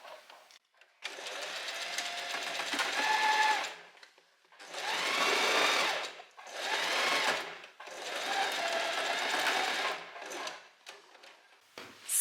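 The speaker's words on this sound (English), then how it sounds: "This time I'm starting up here and sewing down." A sewing machine stitches a seam on a little black dress with thin straps and an open back, running in four sustained bursts separated by short pauses, close and fairly loud with no talking.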